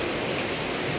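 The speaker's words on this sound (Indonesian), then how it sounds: "hujan turun." Steady broadband hiss of rain falling, even and continuous throughout, with no voices.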